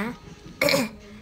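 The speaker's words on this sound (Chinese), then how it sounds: "怎么老咳咳？ 嗓子里有老痰啊，有老痰" A woman coughs with a thick, phlegmy rasp, one short loud burst rising from a quieter background, like clearing mucus stuck in the throat.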